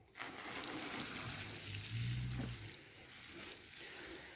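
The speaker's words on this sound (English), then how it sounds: "let's start watering" Pepper plants in a dacha garden get watered: a steady, soft rushing hiss of spraying water runs throughout, close by and even in level, with no one speaking.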